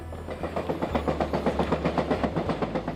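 A passenger train rolls along the rails in Alaska with a steady, rhythmic clickety-clack of wheels over track joints and a low rumble underneath, close and continuous.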